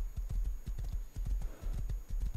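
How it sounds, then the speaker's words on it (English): A horse gallops in the video game Rust, its hoofbeats thudding in a fast, steady rhythm, close and continuous, with no talking. "So if you run fast with a horse, of course, he, you know, wears down a lot quicker."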